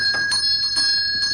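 An electric bell rings in a room in a period house, sounding in repeated bright bursts with a steady high tone that keeps going throughout, near and fairly loud, with no talking.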